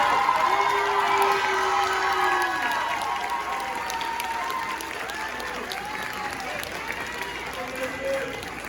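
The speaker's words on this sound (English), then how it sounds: "Can we please welcome David Wu with a big round of applause?" Applause from the audience at a school sports banquet as an athlete is welcomed, a broad wash of clapping with some cheers and excited voices, strong at first and gradually easing.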